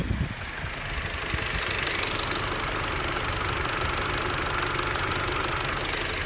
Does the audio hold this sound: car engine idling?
yes